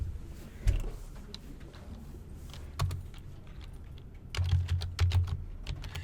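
Keys on a computer keyboard are tapped in quiet, irregular clicks, with a few short bursts of faster typing close by.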